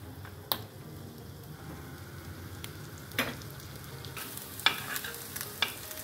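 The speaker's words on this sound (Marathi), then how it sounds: "छान अशा प्रकारचे छान शेकून घ्यायचे अप्पे पात्रामध्ये" Matar kachori balls sizzle and crackle as they roast in an appe pan, with a steady low frying hiss and several sharp pops and spatters scattered through it.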